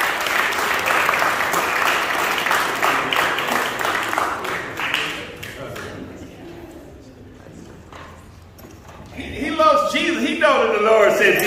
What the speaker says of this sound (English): Let's clap our hands for AJ